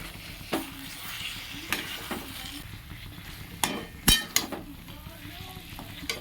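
Washed, soaked soybean chunks dropped into hot spiced oil for an aloo soybean kosha, giving a continuous frying sizzle broken by several sharp metal scrapes and clinks of the spoon against the pan, close up.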